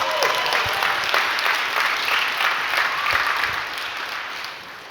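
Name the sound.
audience applause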